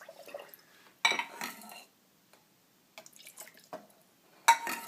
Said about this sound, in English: Just pour it in with a ladle.